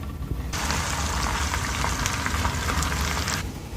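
Onion frying in half a cup of hot oil while tempering cooked dal, a steady close sizzle that starts abruptly and keeps an even crackle for about three seconds before cutting off.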